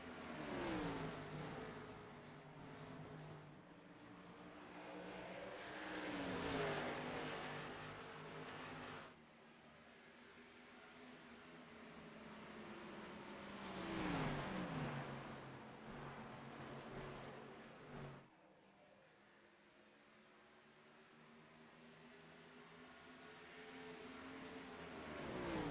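Simulated race cars lapping Iowa in the iRacing video game sweep past in repeated swelling waves of engine noise. Each surge fades before the next, and the whole is fairly faint.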